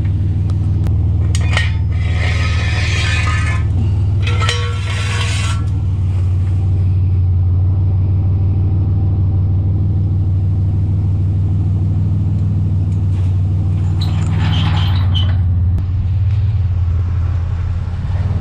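A 1988 Chevy S10 Sport with a 4.3L engine idling rough, a loud, close, continuous low rumble with a slightly uneven pulse and occasional clanks and rattles on top, no speech.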